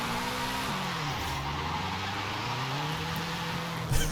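Subaru BRZ driven in Forza Horizon 5 without drift suspension: a steady engine drone with gliding pitch changes as the car slides, tire noise underneath, and a brief louder burst at the very end.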